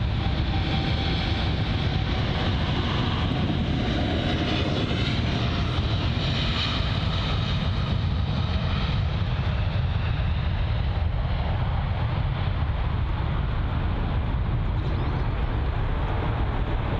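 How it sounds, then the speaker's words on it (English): A WestJet Boeing 787 departing London Heathrow, its loud jet engines roaring steadily and continuously at a distance, with no talk over it. "But the WestJet 787 on departure now."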